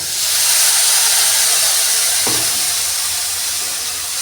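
Mixed masala is poured into onion and ginger frying for a dry arbi sabji, and a loud, steady sizzling hiss fills the pan, with one brief soft knock partway through.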